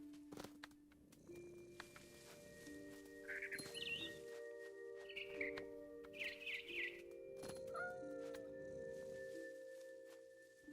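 Bird calls in the video game What Remains of Edith Finch, short chirping bursts repeated over a steady layer of sustained game music tones.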